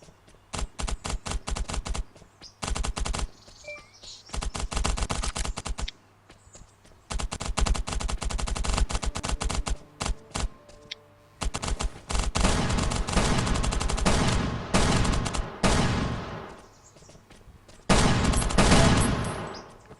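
Rapid bursts of automatic gunfire in the survival shooter game Last Island of Survival, long dense volleys with short pauses between them, loud and continuous.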